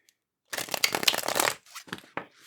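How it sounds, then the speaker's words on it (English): A tarot card deck is shuffled close up, a dense second-long riffle of papery flicking followed by a few shorter card taps and slides, with no talk. "And then we're going to shuffle your tarot deck here."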